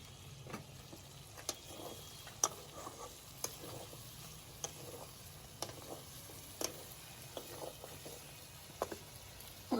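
Spiced capsicum chicken is stirred in a pan in a home kitchen, faint scrapes and soft clicks of the spoon recurring irregularly over a quiet, low sizzle.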